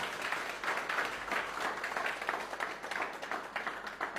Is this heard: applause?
yes